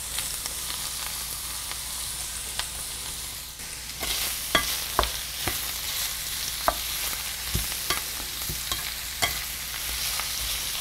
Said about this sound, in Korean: 기름의 숨이 좀 죽을 때까지 잘 볶아 주셔야 되는데요